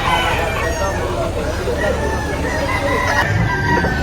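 Roosters crowing at a chicken market in Lipa, Batangas, drawn-out calls rising over a busy, noisy background of clucking fowl and crowd murmur, with people talking nearby.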